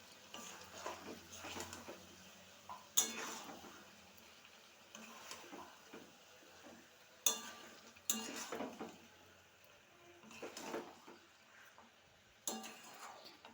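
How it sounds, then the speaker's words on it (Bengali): Spices being stirred in a kadai: a spoon scraping and clinking against the metal pan in repeated strokes, with sharper knocks every few seconds, close and moderately quiet with no talking. "এরপর এটাকে আমি ভালো করে মিক্স করে নেব।"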